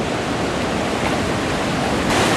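Ocean waves surging against coastal rocks, a continuous broadband roar of churning surf, loud and steady with a slight swell toward the end.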